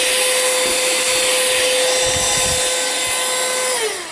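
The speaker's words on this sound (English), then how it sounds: "I have this handy dandy little vacuum cleaner I keep on my work area." A small handheld vacuum cleaner whirs loudly and continuously with a steady high whine while tidying a papercraft work area, then winds down as it switches off at the end.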